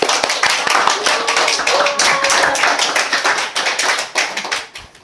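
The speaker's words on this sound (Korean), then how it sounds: "우리 큰 박수로 우리 전을 맞이해주시죠." A church congregation bursts into enthusiastic applause during a worship service, dense rapid clapping from many hands that holds steady, then thins and fades toward the end.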